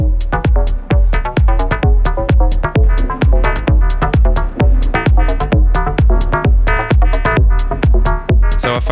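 Shouted vocal snippets run as a sampler loop through effects inside a loud, driving modular techno groove with a steady kick pulse, dense and continuous, with no talking.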